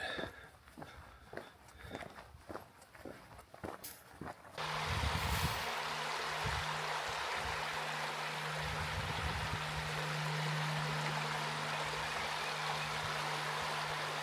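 Hart Creek, an emerald-green woodland creek on a spring day, rushes steadily and close by after a few seconds of footsteps on the trail, its broad watery hiss filling the rest of the clip.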